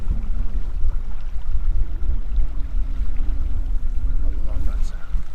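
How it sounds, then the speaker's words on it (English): Babbling brook at the gates of Fernworthy woodland on Dartmoor, a steady rushing, gurgling flow of water with wind buffeting the microphone, continuous and close throughout. "I love that sound. That babbling brook."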